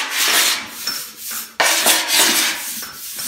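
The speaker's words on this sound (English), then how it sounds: "What I do is I lightly scuff it so it's all the same color of gray." A wooden block wrapped in sandpaper scuffs a car fender in steady back-and-forth rubbing strokes, close and fairly loud, with a sharp restart partway through and no talking.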